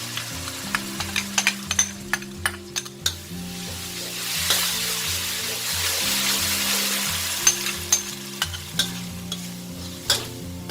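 Fermented soybean paste stir-fried in garlic-infused oil over medium heat, a steady sizzle broken by sharp repeated scrapes of the spatula against the pan, with a rhythmic low tonal pattern running underneath.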